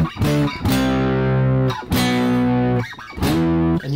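Electric guitar with a thick, distorted tone plays a riff slowly, sustained notes separated by short slides and pick attacks, loud and close with no voice over it.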